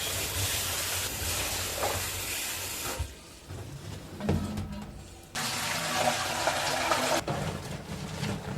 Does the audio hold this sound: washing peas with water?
yes